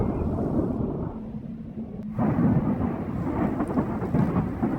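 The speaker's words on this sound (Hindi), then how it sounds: "बादल गरजने की आवाज से मैं भी जाग गया" Thunder rolls through a storm with rain, a deep sustained rumble that dips and then swells again into a heavier roar, with no voices present.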